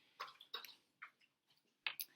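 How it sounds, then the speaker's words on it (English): Dog lapping water from a bowl indoors, a few quiet wet slurping laps in an uneven rhythm, faint and close. "I'm sure you can hear my dog drinking her water right now on the video."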